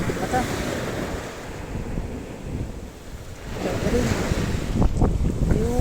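Steady wash of surf breaking on a shore with gusty wind buffeting the microphone, swelling louder toward the end.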